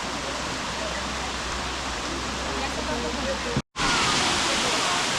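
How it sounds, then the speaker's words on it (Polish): A waterfall roars as a dense, steady wash of falling water, loud and unbroken apart from a momentary dropout near the end. "Kurde, całkiem fajny ten wodospad."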